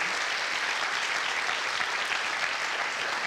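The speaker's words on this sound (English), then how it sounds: "So please, another big applause for them" An audience at Startup Weekend Montreal gives a round of applause for a sponsor, a thick, continuous, even sheet of clapping at steady loudness throughout.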